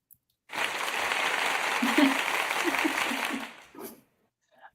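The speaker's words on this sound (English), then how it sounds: "Dr. Nelson, I love the little clap." A short burst of applause from a small group opening a morning session, steady broadband clapping for about three seconds that fades out, followed by a brief extra clap.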